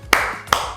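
Two sharp hand claps a short pause apart, each crisp and close, ringing briefly in a quiet room with no talk.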